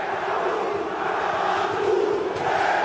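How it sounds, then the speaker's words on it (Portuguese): Football stadium crowd booing a player, a dense, sustained roar of many voices at a distance, steady and unbroken with no single speaker. "A torcida vai apupando o Pedro Raul."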